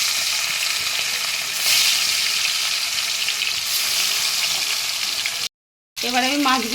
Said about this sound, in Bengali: এবারে আমি মাছগুলো ভালো করে ভেজে তুলে নিচ্ছি।